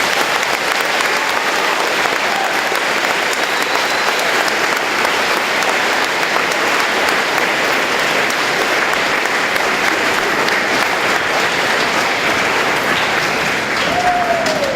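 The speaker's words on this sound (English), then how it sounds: "I would like a big round of applause for Mrs. Senora Alonso for letting everything happen today." An audience at a high school Veterans Day assembly breaks into loud, sustained applause, with dense, even clapping from a large crowd filling the hall throughout without any talk.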